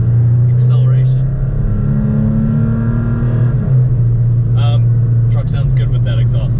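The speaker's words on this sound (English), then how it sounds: "Truck sounds good with that exhaust, I love it." A truck engine with an aftermarket exhaust, running 87 octane, revs up with a deep, throaty exhaust note that rises then settles, close and loud, with brief bits of talk over it.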